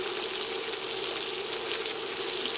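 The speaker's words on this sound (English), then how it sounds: "So while our fish is frying over here, I'm going to prepare all the other ingredients." Sea bass frying in a pan, a steady bright hiss and crackle of hot oil holding at an even level throughout.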